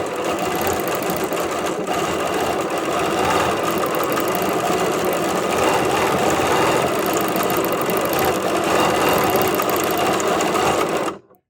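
A sewing machine runs continuously at a steady high speed while quilting a meander stitch on string blocks, a loud, even mechanical whir with no pauses until it stops abruptly at the end.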